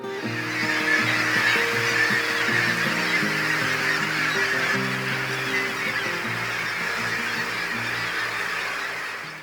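About 20,000 seabirds calling at once on Gull Island, Alaska, a loud continuous din of overlapping honking cries.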